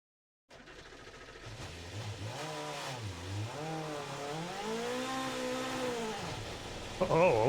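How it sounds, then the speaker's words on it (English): A car engine in Gran Turismo Sport, a 1964 model, roars through a long rev climb, its pitch rising and wavering as it winds up and eases between gears, steady and fairly close, with no one speaking. "What an engine."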